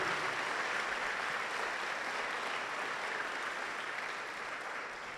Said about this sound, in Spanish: Vamos a darle un aplauso a ese Dios asombroso